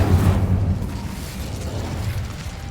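A fire spell, Incendio, cast in the video game Hogwarts Legacy: a loud, rumbling burst of flame at the start that settles into a steady low roar, continuing for a few seconds with no one talking.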